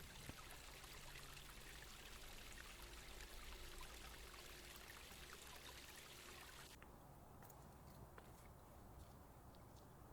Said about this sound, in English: I encountered a lot of little waterfalls that crossed the path